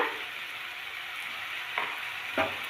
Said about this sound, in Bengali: আদা রসুনটা দেওয়ার পর আবারও ভালোভাবে ভেজে নেওয়া হচ্ছে